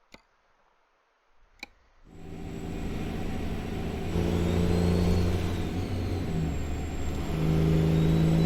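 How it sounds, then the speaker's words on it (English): A couple of sharp clicks, then a loud truck engine in American Truck Simulator starts up and revs steadily with a rising turbo whine on top, continuous and close. "I got the engine way too loud. I'll get it down here. Get that turbo back down here."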